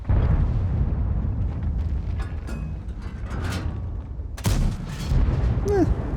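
Loud tank cannon shots boom in a tank combat video game featuring the Object 260, with a sharp blast near the middle over steady rumbling engine and battle noise.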